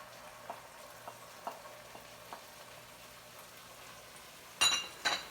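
Mushrooms stir-fry in a pan for Ants Climbing a Tree, with a low steady sizzle under a few soft scraping taps, ending in two louder clattering clinks of utensil on pan.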